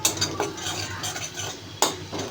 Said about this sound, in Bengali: বাটারের মধ্যে রসুন দিয়ে দিলাম। রসুনটাকে হালকা করে ভেজে নেব